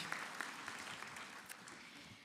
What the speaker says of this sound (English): maybe you could all give her a big round of applause